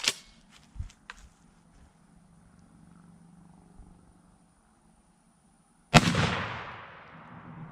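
A shotgun fitted with the stock Beretta choke fires once at a target 20 yards out, a single sharp loud blast near the end that leaves a trailing echo. Before it come a few faint handling knocks and near silence.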